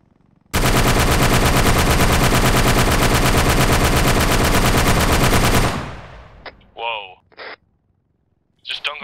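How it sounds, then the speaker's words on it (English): Sustained, rapid automatic gunfire from AI fighters in ArmA 3 roars loud and close for about five seconds, then cuts off, followed by a few scattered shorter bursts and voices talking. "I got AI fighters near me shooting south still"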